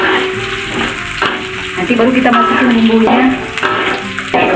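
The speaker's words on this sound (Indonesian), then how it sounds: "Goreng bawangnya ya bun, sampai warna bawangnya warna coklat ya bun" Onions frying in a pan for gulai rendang, a steady sizzle running throughout, with someone talking over the cooking.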